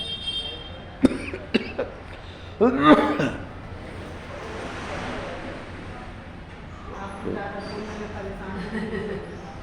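Several sharp coughs break out in quick succession, close to the microphone, followed by quieter room noise and murmuring.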